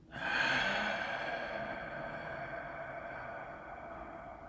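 A single slow, deep exhale from a breathing exercise, a close breathy rush that starts abruptly and fades gradually over several seconds with no talking.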